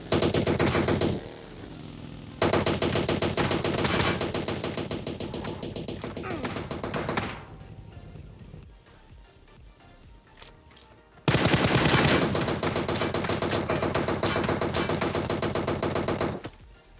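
Gunfire in a shooting video game, with loud bursts of rapid automatic fire and single shots, a quieter stretch in the middle, then another long, intense burst.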